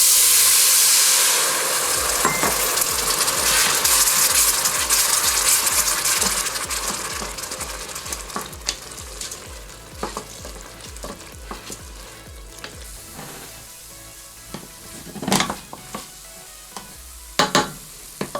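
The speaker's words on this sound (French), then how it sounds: "On va maintenant mettre le vin blanc sec, on va mélanger" Dry white wine hits risotto rice in a hot pan with a loud hiss and sizzle that gradually settles, followed by stirring scrapes and a few sharp clinks of the spoon against the pan.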